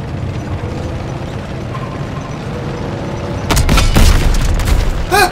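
A deep Panzer tank cannon boom in Call of Duty WWII erupts suddenly, followed by mechanical clanking and a brief electronic chirp, set against a steady low rumble of engines.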